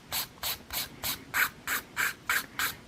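A nail file strokes down the side of a fingernail in about eleven quick, evenly spaced rasping scrapes, close and fairly quiet, with no talking.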